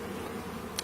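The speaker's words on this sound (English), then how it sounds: "hoping that all the bees on the wall would come down it into the hive" Bees buzz in a steady, dense drone around a hive set up against a wall where the colony has been living, heard close and continuous through a brief moment.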